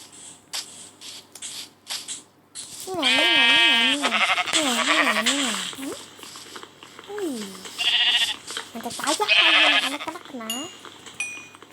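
Wavering, warbling bleats from sheep in the Minecraft video game, several loud calls with game effects mixed in, while a player talks over much of it.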